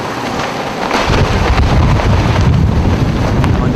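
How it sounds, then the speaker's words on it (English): Powerful derecho windstorm winds roar and buffet the microphone, a loud, turbulent rush that swells heavier after the first second and keeps gusting with low rumbling pulses. "an intense windstorm called Derecho formed in northwest Indiana"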